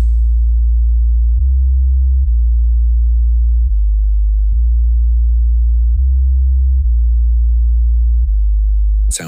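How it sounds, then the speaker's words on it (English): A low sine test tone plays for a sound check, droning steadily and loudly in a pulsing pattern that shifts slightly in level at regular intervals, then cuts off with a short burst at the end. "Low frequency"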